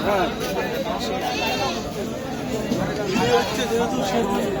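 Goats bleat repeatedly amid crowd chatter at a busy goat market in Bangladesh, with the calls close and overlapping under steady speech from people nearby.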